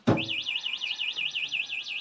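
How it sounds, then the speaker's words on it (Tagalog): A white HJ Moto C60 electric bike's anti-theft alarm wails in a fast, steady warbling siren, rising and falling repeatedly, loud and close, with no voices. "pag naka-activate na po yung alarm"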